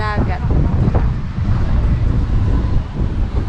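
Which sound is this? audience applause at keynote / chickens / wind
wind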